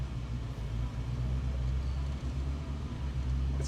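A Nissan Micra K10 engine runs with the throttle held steady, a loud, even low rumble from inside the car that holds its pitch throughout with no talking.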